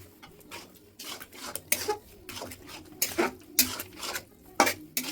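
Metal spoon scraping and clanking in a pot as milk cooks down with grated carrots for gajar halwa, irregular close stirring knocks and scrapes over a soft simmer.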